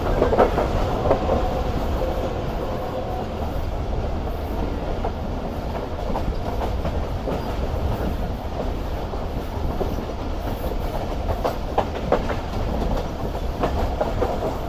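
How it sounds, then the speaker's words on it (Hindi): The Rehman Baba Express rolls toward Peshawar, heard from aboard as a steady rumble of wheels on track with faint rhythmic clicks and occasional higher metallic squeaks, continuous and moderately loud with no talk. "उछलती कूदती हुई जा रही है हमारी रहमान बाबा एक्सप्रेस पेशावर की तरफ"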